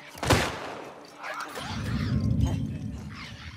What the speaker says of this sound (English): I really cannot tell you for a fact who's shooting me